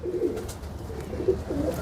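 Kamagar and Teddy pigeons of an old bloodline coo softly in a loft, low, murmuring calls repeating at a steady, unhurried pace with no other sound over them.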